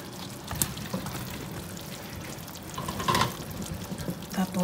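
Meats and okra stirred in a pan, soft scraping and light sizzling with a brief liquid sound midway, faint and close.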